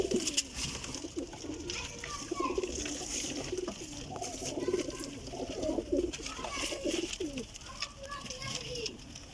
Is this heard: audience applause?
no